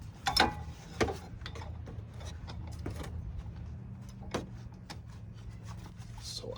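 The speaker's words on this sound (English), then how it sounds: "if you were standing there, which way would you tighten? So if I was standing this way, I would loosen it this way." Ratchet wrench loosening a bolt, heard as a couple of quick, close clicking bursts near the start, then sparse faint ticks over a low steady hum.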